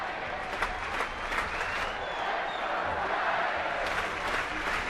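A packed crowd of over 41,000 at a Giants home baseball game in San Francisco cheers and applauds steadily in the ninth inning, a dense, continuous roar of clapping and shouting with a commentator's voice faintly beneath.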